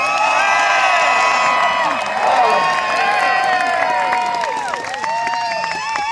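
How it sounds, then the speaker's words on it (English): A festival crowd at an outdoor Japanese festival in a botanical garden claps and cheers, with children's shouts and whistling tones rising over the steady crowd noise. "There's not enough applause."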